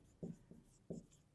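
Handwriting during a math lesson on pairs of linear equations: four quick, faint scratchy strokes in an uneven rhythm, close to the microphone, with no talking.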